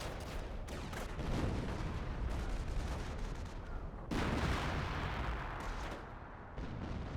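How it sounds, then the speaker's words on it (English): Infantry fire crackles across a Company of Heroes 1 battlefield as US and Wehrmacht troops clash: dense, continuous rattling gunshots with heavier booms mixed in, sustained throughout at a fairly loud level. "Front infantry firing on us!"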